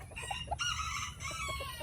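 Chickens and a rooster in a backyard coop cluck and call in quick, overlapping bursts with a crow mixed in, close and fairly loud throughout.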